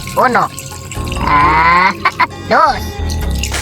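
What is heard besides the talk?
water poured into cooking pot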